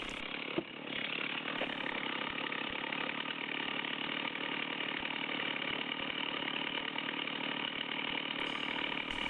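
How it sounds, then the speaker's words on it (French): A chainsaw runs steadily in tree-cutting work by a roped climber, its mid-pitched engine droning continuously and loudly at close range with no talk over it. "la tronçon s'est toujours pas arrêtée"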